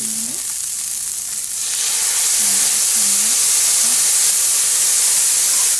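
Light soy sauce hits rice frying in a hot pan, giving a steady loud sizzle and hiss throughout. A faint voice sounds briefly near the start.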